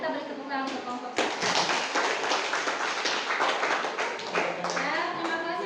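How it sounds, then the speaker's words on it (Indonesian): A classroom group applauds group 1 during a school lesson on petroleum and natural gas, with dense, steady clapping and tapping that fills the whole stretch and stays loud throughout, mixed with some background voices. "kita beri tepuk tangan untuk kelompok 1"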